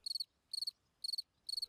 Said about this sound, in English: On the ground, male crickets try to attract females with their songs